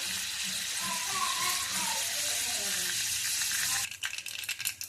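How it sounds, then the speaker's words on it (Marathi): Steady hissing sizzle of seeds spluttering in hot oil, ending in a few sharp crackles and pops. "आता आपली जिरी मोहरी तडतडून झाली"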